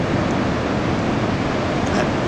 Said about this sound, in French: Il y a des vagues aussi par là-bas, au centre VVF